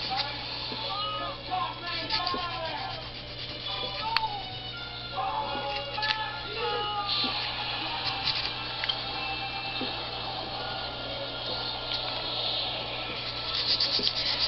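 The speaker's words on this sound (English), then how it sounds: "I'm just going to lightly sand the bottom of this" Light, steady sanding rubs close by on a plastic part of a 1/1000 USS Enterprise model kit, small scratchy strokes over a constant low hum, with faint voice-like sounds mixed in.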